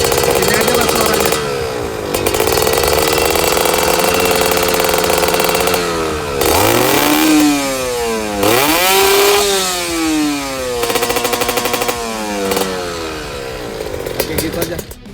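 A Kawasaki Ninja RR two-stroke engine, just repaired after overheating, runs loud and close with a raspy buzz, revving up and down repeatedly in short blips between idle stretches.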